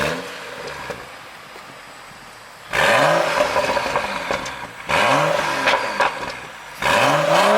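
BMW M135i with N55 engine and resonator delete, cold start followed by three sharp rev blips from a loud, close exhaust, each falling back to a rough idle, no talk.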